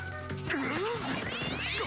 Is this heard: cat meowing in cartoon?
yes